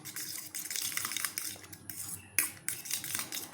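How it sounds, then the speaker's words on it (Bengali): A spoon or fork beats an egg with salt and spice powder in a bowl for a bread omelette, rapid close clinking and scraping strokes in an uneven rhythm with short pauses, no speech. "এখন খুব ভালো করে ফেটিয়ে নেব।"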